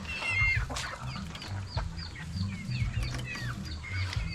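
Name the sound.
chickens clucking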